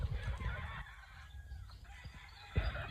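Chickens, pullets and hens in a poultry pen give off scattered clucks and rough crowing-like calls, with steady flock noise throughout and a louder call near the end.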